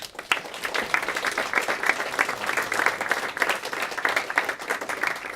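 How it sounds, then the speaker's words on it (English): A live audience at a CreativeMornings breakfast talk in Trondheim breaks into steady, dense applause, many hands clapping together for several seconds with no voices over it. "So give her a big round of applause."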